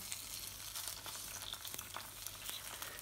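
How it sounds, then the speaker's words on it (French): Sardines laid skin side down in a hot pan, frying gently: a quiet, steady sizzle with faint crackles and small pops throughout. "on y met les sardines côté peau. Voilà, comme ceci. Et on les poêle tranquillement"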